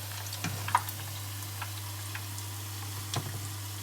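Pestiños fry in hot oil, giving a soft continuous sizzle with occasional small ticks and pops close by.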